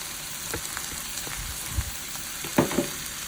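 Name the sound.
cooked legumes and greens added to a frying pan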